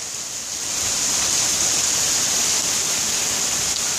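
Heavy rain from a thunderstorm in Austin, Texas pounds down in a loud, continuous roaring hiss that swells slightly after the opening moment and then holds steady, with no voices.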